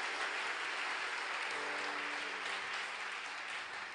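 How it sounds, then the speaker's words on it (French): Convention audience at Pointe-Noire applauding a pastor, a steady, dense wash of clapping from a large crowd that continues without a break throughout. "On acclame pour lui."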